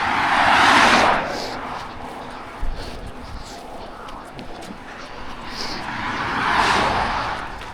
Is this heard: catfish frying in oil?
no